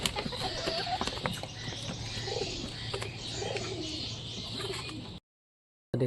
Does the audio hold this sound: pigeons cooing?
yes